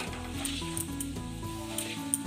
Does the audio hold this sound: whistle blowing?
no